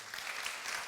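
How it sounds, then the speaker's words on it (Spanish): A church congregation applauds, a short, steady wash of clapping from many hands heard at moderate distance and fairly faint. "¿Quién les da un fuerte aplauso al Señor?"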